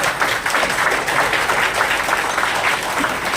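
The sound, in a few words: audience applause at a seminar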